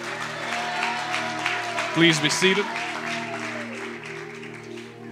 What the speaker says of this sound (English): Give the Lord a mighty hand clap.